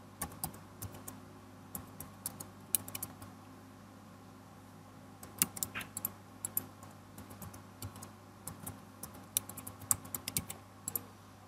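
Quick bursts of typing on a computer keyboard entering a password, light clicking keystrokes in short clusters with pauses between, close and fairly quiet against a faint electrical hum.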